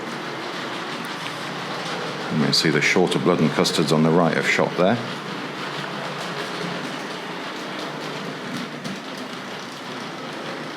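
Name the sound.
Tri-ang model train, B12 locomotive with coaches, running on track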